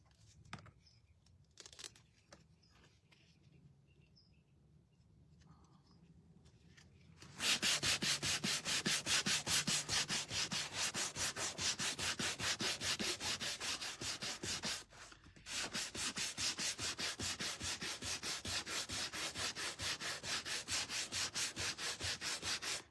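Sandpaper scrubs across a painted lamb picture down toward the bare wood, beginning with quiet handling and then turning into fast, steady, rhythmic rasping strokes that continue with one brief pause.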